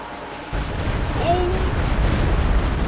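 Stuka rocket artillery fires in a Company of Heroes 2 battle, a heavy roaring rumble with a whooshing rocket sweep, under a sustained wash of game battle noise.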